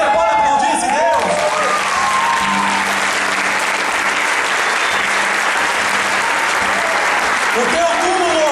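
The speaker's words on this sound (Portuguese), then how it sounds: "Sabe que você pode aplaudir esse Deus?" A church congregation applauds loudly in a continuous wash of dense clapping lasting several seconds, with brief voices at the start and end.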